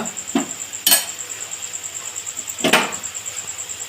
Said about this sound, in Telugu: ఎండుమిర్చి కూడా వేసి ఒకసారి ఆ ఎర్రగడ్డ ముక్కలు వచ్చిన దాకా వేసుకున్నాం